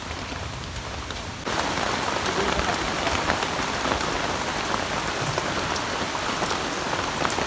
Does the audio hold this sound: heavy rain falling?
yes